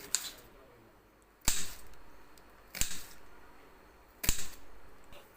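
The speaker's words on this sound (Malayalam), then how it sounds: "ഇനി നമുക്ക് ഉള്ളി അരിയാം." A knife chops onion on a board in three sharp, well-spaced cuts, crisp and close against a quiet background, with no voices.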